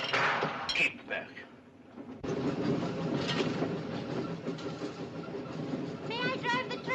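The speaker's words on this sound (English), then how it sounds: "May I drive the train?" Train running on rails, a continuous loud rumbling and clattering roll that sets in after a brief jolt, with voices speaking over it at times.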